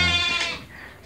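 Garut sheep in a pen at feeding time give a loud, close bleat with a wavering harmonic tone, fading over about a second with no talk.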